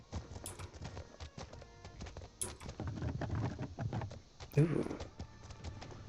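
Horse hooves clip-clopping in the video game The Legend of Khiimori, a steady run of soft, quick hoofbeats at moderate distance, with a brief spoken exclamation over them.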